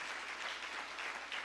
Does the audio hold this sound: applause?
yes